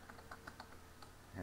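Keystrokes on a computer keyboard while entering a command in a Linux terminal, a short run of light, evenly spaced clicks at close range, with a slightly louder key press at the end.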